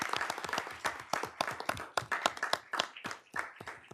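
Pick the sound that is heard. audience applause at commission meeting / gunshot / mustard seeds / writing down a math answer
audience applause at commission meeting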